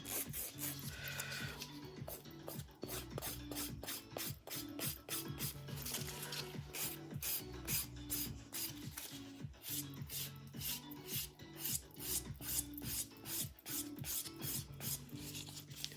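Steady rapid rasping of a 180 grit nail file worked across a gel nail, close and continuous with regular back-and-forth strokes throughout.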